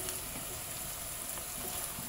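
Bitter gourd pieces frying in hot oil give a steady, dense sizzle with crackling throughout, close and even, with no talk over it.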